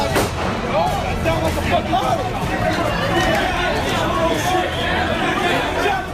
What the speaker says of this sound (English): Video showed what sounded like gunshots